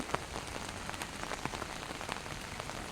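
Steady rain pattering on a surface, with scattered distinct drops tapping through a dense, even hiss; no voices.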